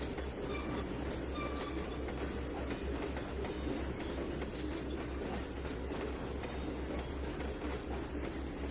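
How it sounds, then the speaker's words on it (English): A train runs on the rails in the Trainz 2022 video game, a steady rumble with rhythmic clickety-clack from the wheels and faint squeals, continuous and fairly close, with no talk. "Here's the train we just pulled in."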